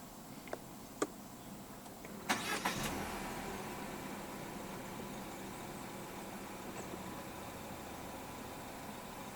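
A 2024 Peugeot 408 GT with the 1.6 PureTech engine starts by push button: a couple of soft clicks, a sharp brief cranking burst as the engine catches, then a quiet steady idle.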